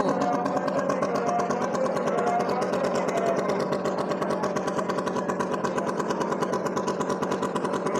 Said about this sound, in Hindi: ये मौत का कुआं है जहाँ पर ये मोटरसाइकिल का करतब दिखाया जा रहा है आपको।